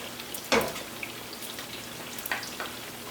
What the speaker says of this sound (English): Let that fry up.